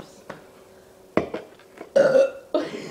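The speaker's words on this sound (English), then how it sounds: "We're waiting to see who burps." Loud close burps erupt several times in quick succession, deep and throaty, from people holding a burping contest, with no clear talk over them.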